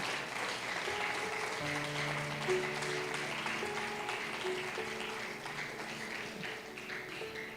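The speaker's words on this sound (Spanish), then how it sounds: "Puedes darle un fuerte aplauso al Señor en esta tarde." A church congregation claps in praise during an evangelical gathering, steady applause at moderate distance, with sustained musical tones from an instrument playing underneath.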